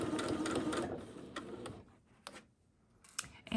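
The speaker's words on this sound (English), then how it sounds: "here we are at the machine, and again, we're just sewing a basic seam" A sewing machine stitches a basic quarter-inch quilt seam, its needle chattering steadily and close at first, then slowing and stopping in brief, quieter stretches.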